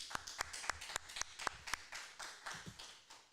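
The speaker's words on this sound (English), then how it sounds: "with the applause from the audience" Steady, evenly spaced claps from a conference audience, quiet and somewhat distant, fading out after about three seconds.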